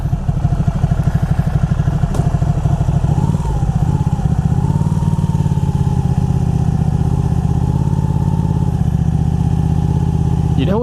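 A 2012 Ducati Panigale 1199 motorcycle with a dry clutch idles steadily and loudly up close, its engine pulsing evenly with a rattly clatter throughout and a brief rise in revs partway through.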